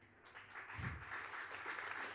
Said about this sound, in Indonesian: Tepuk tangannya boleh lebih dahsyat lagi buat Yesus Tuhan kita.